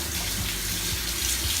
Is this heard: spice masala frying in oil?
no